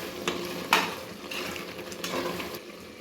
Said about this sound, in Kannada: ಚೆನ್ನಾಗಿ ಫ್ರೈ ಆಗೈತೆ